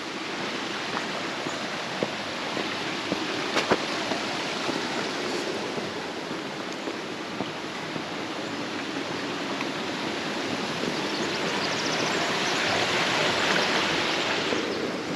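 Creek water flowing along Fall Creek through a redwood forest in Henry Cowell State Park, a steady, soft rushing wash that continues without a break and swells slightly near the end.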